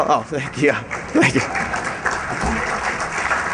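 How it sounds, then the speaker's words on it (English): Audience applause at a Defcon security conference talk, a crackling wash of clapping running under the presenter as he speaks briefly into the microphone. "thank you for the applause"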